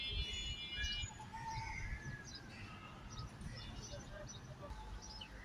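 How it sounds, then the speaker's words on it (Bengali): Birds in trees on a morning chirp faintly in scattered short tweets, distant and soft over a low, steady background hum. "অনেক সুন্দর কিচিরমিচির শব্দ"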